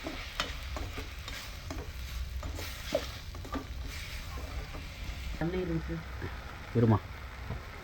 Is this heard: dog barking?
no